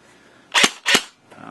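A Classic Army ECR-5 airsoft rifle fires two sharp, loud shots in quick succession, each with a snappy mechanical blowback clack, followed by a softer trailing noise.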